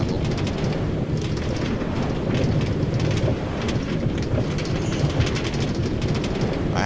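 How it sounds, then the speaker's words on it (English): A Minecraft minecart rolls along a railway track with a steady, loud rumbling clatter, continuous and unbroken for several seconds, with no voices over it. "But first we gotta finish the railway travel."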